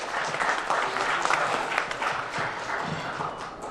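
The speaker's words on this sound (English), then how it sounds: "Please give a warm round of applause for his opening remarks" An audience at a think tank launch event in Toronto applauds with steady, warm clapping that stays fairly loud, then eases slightly toward the end.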